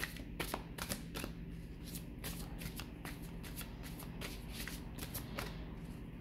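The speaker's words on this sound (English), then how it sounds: "shuffling to make sure that it is very much shuffled" A deck of cards is shuffled repeatedly close up, giving rapid crisp riffling bursts with short pauses between them over a steady faint background hiss.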